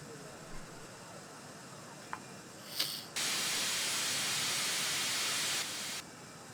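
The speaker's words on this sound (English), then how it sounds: "Lovely bit of steam that is." A BR10 steam locomotive in Train Simulator on the Hamburg–Hanover line releases steam in a loud, steady hiss lasting about three seconds, then cuts off abruptly, with a quieter running rumble before and after.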